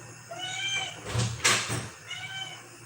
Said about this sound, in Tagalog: Pusa na to talaga, oh.